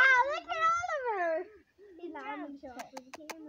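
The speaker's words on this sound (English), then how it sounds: "There's our kitties coming." Several cats meow in rising, drawn-out calls close by, followed by a few sharp clicks or taps near the end.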